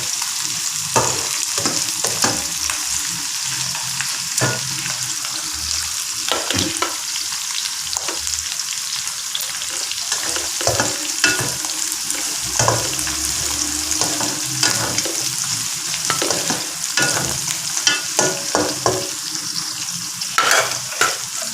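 Mutton frying in a pan with a little mint added, a loud continuous sizzle with repeated scraping strokes of a spoon stirring the meat, close up and steady for over twenty seconds without talk.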